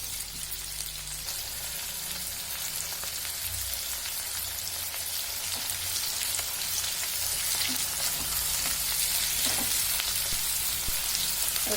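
Onions and dried red chillies fry in a pan for onion chutney, giving a loud, dense, rain-like sizzle that holds steady throughout, close up with no voices.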